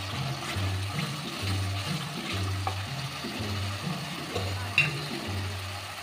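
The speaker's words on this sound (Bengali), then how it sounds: "এবার গ্যাসটাকে লো টু মিডিয়ামে করে আমি এই দইটাকে ভালো করে কষিয়ে নেব" Yogurt masala frying in oil in a pan on low to medium heat, a soft steady sizzle with occasional scraping stirs and a sharp clink, under a faint rhythmic low hum in the background.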